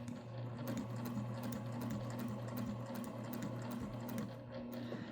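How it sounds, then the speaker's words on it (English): Sewing machine stitching a hexagon garden quilt, with a steady continuous mechanical whir and a rapid needle rhythm, running fairly loud and unbroken throughout. "when I restart to sew the next round"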